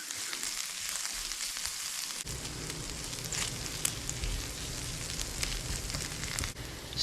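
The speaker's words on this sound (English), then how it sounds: "I'm going to go ahead and add our second aromatic garlic. Minced garlic." Minced garlic frying with bacon in a pan for a bacon jam, a steady close sizzle with faint crackles that grows fuller after a couple of seconds and carries on with no talk.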